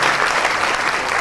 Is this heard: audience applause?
yes